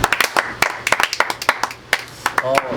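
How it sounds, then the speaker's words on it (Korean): A small group claps hands in a burst of uneven, sharp claps after a concert on a Latin American world tour, with talking and laughter mixed in. "고생한 저에게 박수 한번 쳐보죠"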